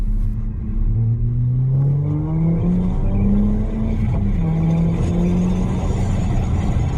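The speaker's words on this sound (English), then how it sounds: "You step on the accelerator pedal and the vehicle gets up to speed quickly because of that 400 foot-pounds of torque and the all-wheel drive system." A 2018 Audi A5 Sportback with 400 lb-ft of torque and all-wheel drive accelerates hard, its engine note climbing steadily in pitch, loud and close, with a continuous road rumble underneath and no voices.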